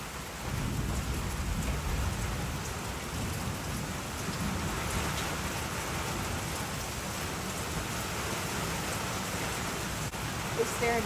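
Heavy rain pours steadily on a rural property, a dense, continuous roar with low rumbling thunder running beneath it throughout, loud and close with no break.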